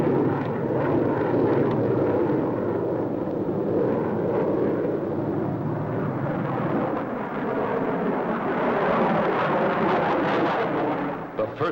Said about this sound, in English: Turbojet engines used in assisting takeoffs of our giant bombers are studied.